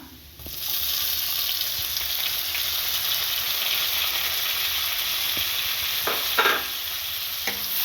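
Onions and tomatoes sautéing in a pan for pasta give a continuous close sizzle, with a few sharp scraping stirs toward the end.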